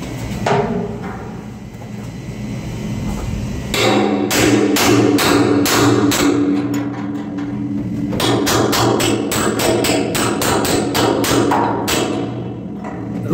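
Repeated hammer blows on an industrial blower during balancing work in a paint shop, sharp metallic strikes in irregular bursts over a steady machinery hum, close and loud, with pauses between groups of hits.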